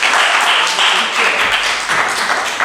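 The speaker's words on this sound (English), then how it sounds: "clap it up for that" Steady applause and clapping from a crowd fills the whole stretch, dense and continuous, with a faint voice briefly underneath.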